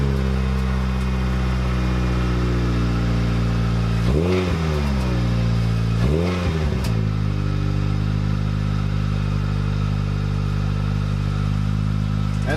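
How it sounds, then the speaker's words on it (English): A Toyota Corolla fitted with Celica GTS pedals idles with a steady engine drone, then two quick throttle blips rise and fall before it settles back to a loud, even idle. "Now I'm gonna head and start the car up"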